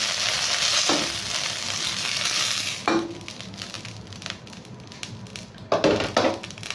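Mint leaves and coriander with stems fry in oil in a pan, a loud steady sizzle with a few clinks and scrapes of a utensil stirring, easing slightly partway through.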